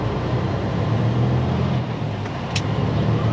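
A car driving on a road, heard as a steady, loud rumble of engine and road noise from inside the vehicle with no break and no talking.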